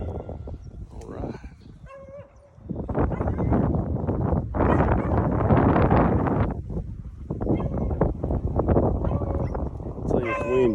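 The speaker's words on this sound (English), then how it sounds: "I'll tell you it's windy." Strong wind buffets the microphone outdoors during a cottontail rabbit hunt with beagles, a loud, continuous rumbling roar through most of the clip, with hounds yelping and baying and someone talking briefly at times.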